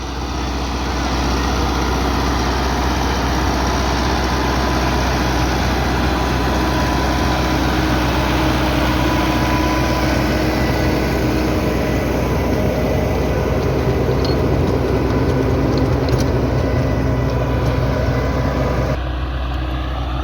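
A tractor engine drones loud and steady while pulling a rotavator through a maize field, a continuous close rumble from start to finish with no pauses.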